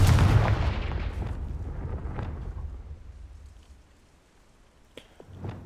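Spell blasts in Hogwarts Legacy: a loud booming explosion at the start that rumbles and fades, followed by a few sharper, fainter cracks near the end.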